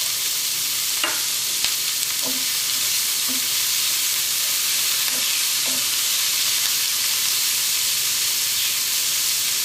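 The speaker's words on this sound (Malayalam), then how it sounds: "ചെറിയൊരു ബ്രൗൺ ആവുന്നത് വരെ നമുക്ക് നന്നായിട്ടൊന്ന് വഴറ്റാം" Chopped onions with green chilli sautéing in a pan for Kozhikode biryani, a steady close sizzle and hiss with a few soft stirring scrapes, no voices.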